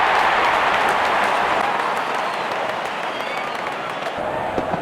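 Large cricket stadium crowd at a T20 international between Pakistan and Sri Lanka, cheering and clapping in a steady, dense roar that fills the whole stretch as openers walk out, with a commentator's voice over it.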